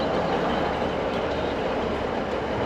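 ScotRail train on the West Highland line, a steady loud rumble of wheels and carriage noise heard from on board, continuous and close with no clear voices.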